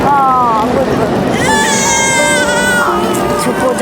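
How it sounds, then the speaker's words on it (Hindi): A baby cries loudly and continuously in wailing, rising and falling sobs, close up against a noisy background. "बच्चे की रोने की आवाज।"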